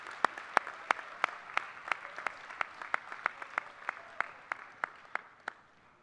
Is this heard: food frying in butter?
no